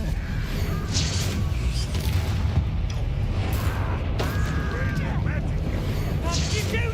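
Spell explosions and magical combat effects from Hogwarts Legacy burst over a dense, constant rumble of battle noise, with several sharper blasts and whooshing streaks layered in and voices shouting spells throughout.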